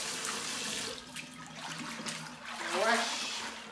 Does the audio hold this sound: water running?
yes